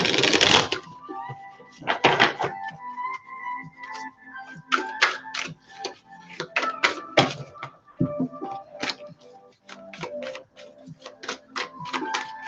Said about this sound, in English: Let me give this a few more shuffles.